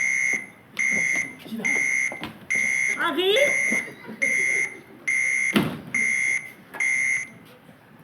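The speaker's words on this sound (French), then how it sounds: "enclenchez l'alarme" Hospital alarm in a drama production, a loud repeating electronic beep in regular pulses about once a second, with a voice calling out briefly under it.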